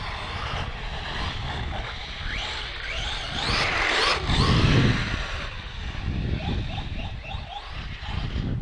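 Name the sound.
Redcat Blackout XTE Pro RC truck driving on concrete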